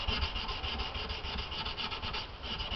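Frets on a Martin D-41 acoustic guitar are sanded with 1200-grit abrasive, a steady close rhythmic rubbing hiss of quick back-and-forth strokes. It runs unbroken with no voices.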